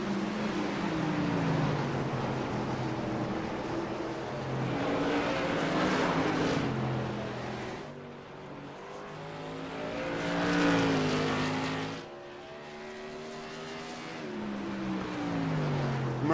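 Race cars circling the track at Oswego during a season-opening race, engines roaring in waves as cars pass, swelling and fading in a steady rhythm, loud and fairly close with no speech.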